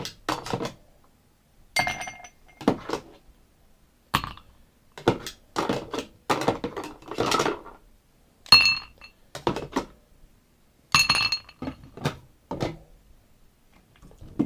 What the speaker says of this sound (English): You want to add ice to your glass.